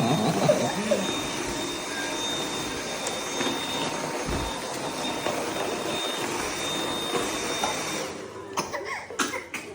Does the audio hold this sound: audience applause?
no